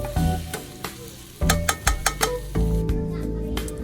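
Spicy canned tuna frying in a pan, stirred briskly: loud continuous sizzle with a run of sharp spoon-on-pan clanks, close up, and no one speaking.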